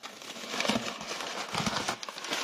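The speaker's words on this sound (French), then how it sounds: "Bon, désolé pour le bruit du papier." Close, continuous crinkling of paper being handled, rustling and crackling for a couple of seconds with no voices.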